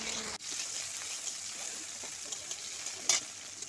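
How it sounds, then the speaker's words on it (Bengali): Okra frying in white oil in a kadai, a faint, steady hiss with a few soft pops and crackles, alone. "তারপর ঢেঁড়সগুলো ভেজে নেব।"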